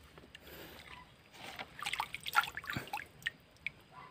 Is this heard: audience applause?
no